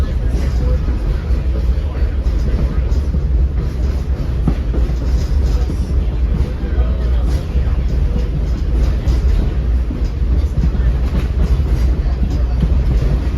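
A heritage train on the Tennessee Valley Railroad rolls steadily along the tracks near a bridge over South Chickamauga Creek, with a loud, continuous rumble and faint rhythmic wheel clatter, close by and unbroken throughout.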